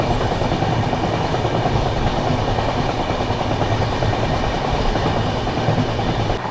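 Passenger train, a Barauni–New Delhi clone special, running on track rated for 130 km/h; a loud, steady roar of wheels and clickety-clack from inside the carriage, continuous throughout with no talk.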